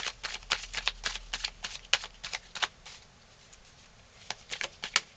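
Playing cards shuffled and dealt by hand during a tarot-style reading: a quick run of crisp, dry card flicks and snaps up close, in irregular clusters with brief pauses, no voices.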